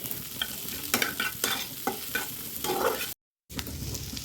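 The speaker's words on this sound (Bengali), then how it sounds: "এবার কড়াইতে পেঁয়াজ চলে গেল" Onions fry in a kadai with a little ghee, a close steady sizzle broken by repeated scraping stirs of a spatula, with a brief dropout near the end.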